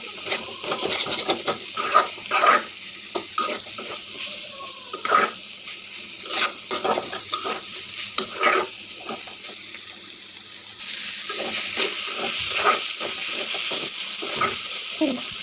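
A vegetable bhaji fries in a pan while it is stirred, giving a soft sizzle with irregular spatula scrapes and clatter; the frying hiss grows louder and steadier partway through.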